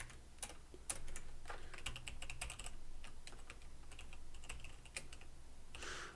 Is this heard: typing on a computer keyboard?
yes